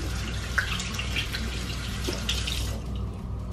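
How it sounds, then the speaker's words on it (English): Tap water runs steadily into a sink while a face mask is rinsed off, a close, continuous splashing wash that stops abruptly near the end. "wash it off"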